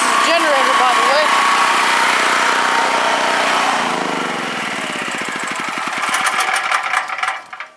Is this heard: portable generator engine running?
yes